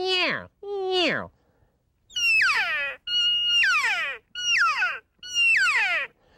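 A rubber-tube elk call, bitten and blown to mimic a lonesome cow elk, produces six loud, nasal, mewing notes that slide downward in pitch, each separated by a brief pause.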